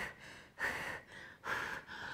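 Forceful, rhythmic breathing during a deep abdominal and pelvic-floor exercise, with sharp, airy exhales pushed out in a steady cycle of about two per second, close and clear with no talking.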